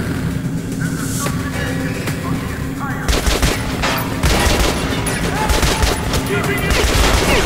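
Sustained gunfire in the video game Metro: Last Light, dense bursts of rapid shots that grow louder and busier midway, with a voice talking over parts of the shooting.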